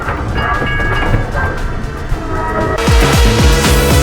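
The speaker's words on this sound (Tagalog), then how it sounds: "We're riding on a train." Riding aboard a moving train, with steady rumbling carriage noise and a heavier burst of rail clatter and wheel squeal in the last second or so.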